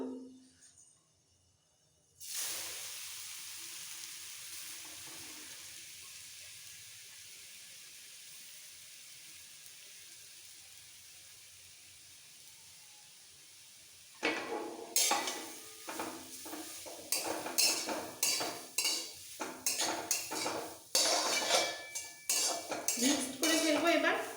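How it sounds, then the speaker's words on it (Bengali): Grated carrots and cardamom added to hot ghee for carrot halwa, with a steady close sizzle of frying first, then a run of rhythmic scraping and clinking stirring strokes in the pan, growing louder toward the end. "ঘিয়ের মধ্যে এলাচ দানা একটু নাড়াচাড়া করে সাথে সাথে দিয়ে দিতে হবে গ্রেট করে রাখা গাজরগুলো"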